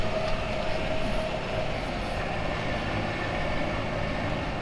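A Case IH 150 Maxxum tractor pulls a 9-shank disc chisel through corn-on-corn ground, giving a steady, loud, broadband engine and tillage rumble that holds constant throughout with no talk.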